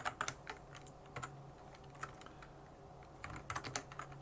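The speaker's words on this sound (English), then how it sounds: "so I'm going to try my touch typing skills here so they can come in a bit handy" Touch typing on a computer keyboard, with bursts of quick, light key clicks separated by short pauses, close and fairly quiet against a low room hum.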